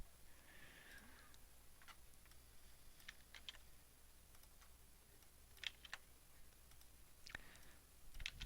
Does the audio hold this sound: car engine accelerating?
no